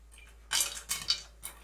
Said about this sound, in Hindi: कुछ ही देर में मक्के के दाने पॉप होने लगेंगे